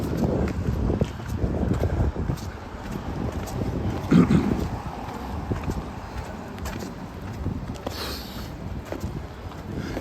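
Wind buffets a microphone on a Toronto city street at night, a loud, gusty low roar that persists throughout, with someone speaking over it and faint traffic behind.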